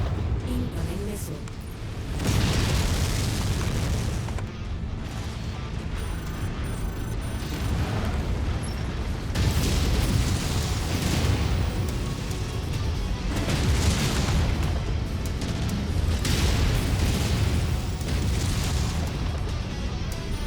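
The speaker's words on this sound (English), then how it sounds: "Incoming missile." Missile explosions and heavy mech combat in MechWarrior 5 form a dense, loud and continuous rumble of booms and bursts lasting the whole stretch, with a voice talking over the action.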